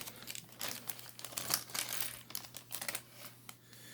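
Small plastic bags holding action figure accessories crinkle and rustle continuously close to the microphone. The crackling is irregular and fairly quiet.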